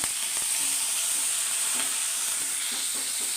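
Curry leaves and shallots sizzle steadily in hot oil in a pan for tomato chutney, a bright continuous hiss with a few soft spoon-stirring knocks.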